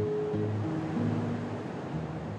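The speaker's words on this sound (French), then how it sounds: "On sent là, les détonations des vagues, on est proche, c'est impressionnant." Big ocean waves crash at Nazaré, Portugal, beneath a tall cliff: a dense, continuous roar of surf with a low rumble, steady and close, with no talk.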